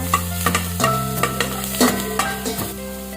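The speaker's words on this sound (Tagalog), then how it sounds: "Tapos, magigisa na tayo ng bawang." Garlic sautéing in melted margarine in a pan gives a few quick stirring knocks and scrapes over a faint sizzle, backed by steady humming tones.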